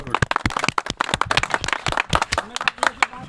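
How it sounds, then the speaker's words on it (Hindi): A small group claps vigorously for a volunteer relief team, with distinct, uneven hand claps in a quick irregular burst lasting about three seconds, close and fairly loud. "हेल्पिंग हैंड्स के लिए एक बार जोरदार तालियां"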